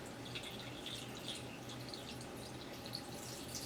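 Liquid poured into a jar while making a homemade probiotic soda, a faint continuous trickle with small drips and splashes, steady and close.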